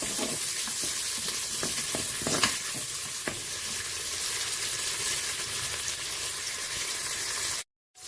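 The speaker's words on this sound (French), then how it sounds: "Je mélange correctement." A lamb osso buco mixture is stirred in a Cookeo multicooker, giving a steady sizzling fry with the scrape of a utensil through it and a few louder clicks early on, all at an even level until it stops abruptly near the end.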